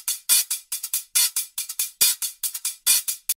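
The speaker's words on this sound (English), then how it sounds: "this is a noisier hi-hat loop at 172 BPM" A noisy hi-hat loop at 172 BPM warped to fit a 140 BPM session: crisp rapid metallic ticks and hissy bursts in a busy repeating pattern, with audible smearing artifacts and no voices.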